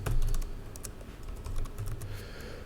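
Rapid typing on a computer keyboard fills the moment, a close, continuous patter of uneven key clicks with no voices.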